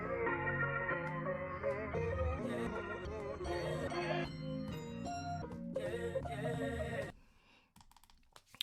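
A musical sample on an MPC Studio, pitched down six semitones from E to a darker A sharp minor, plays loud and dense with sustained low tones for about seven seconds, then cuts off into a few faint clicks.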